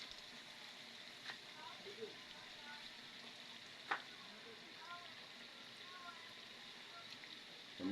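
Squid sautéing in a pan gives a steady, low sizzle throughout, with a couple of brief clinks or stirring knocks and soft talk underneath.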